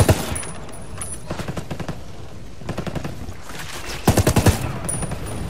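Rapid bursts of sniper and automatic gunfire in Ghost Recon Wildlands crack out in clustered volleys, loudest near the end, over a steady game background with no talking.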